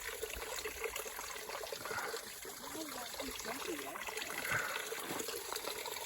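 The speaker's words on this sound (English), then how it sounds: "You can hear the water." Water trickling out of rocks at a mountain spring, a soft continuous babble that stays faint and even beside green vegetation and blue flowers, with people talking quietly over it.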